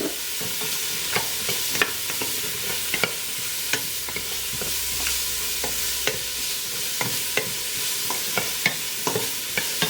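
Celery and carrot sauté in a hot pan with a steady sizzle, while a spoon stirs through them in regular clacking scrapes, close up and with no talking.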